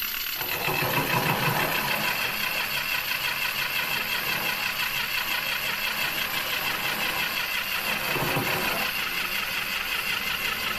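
Motorized handheld cleaning brush running continuously with a steady buzzing whine, its pitch dipping and straining twice as it is pressed against a surface, nearly stalling under load.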